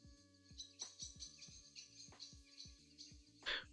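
Winter birds chirping in an ambient sound-effect sample, with faint, scattered high chirps over a repeating low musical beat.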